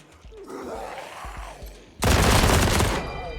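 Gunfire in the turn-based video game Wasteland 3: a loud burst of shots erupts partway through and runs about a second before tapering off, preceded by quieter game ambience and low thuds.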